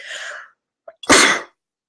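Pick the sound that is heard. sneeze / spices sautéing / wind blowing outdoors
sneeze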